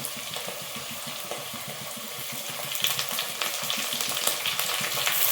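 Food fries in a pan as a few coriander leaves are added. The sizzle is steady and close, with soft crackles and stirring scrapes, and it grows a little louder toward the end. No one speaks.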